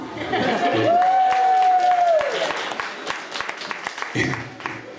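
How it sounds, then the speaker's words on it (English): A burst of applause with clapping and crowd noise from an audience, fading into scattered claps. "Give a round of applause for me."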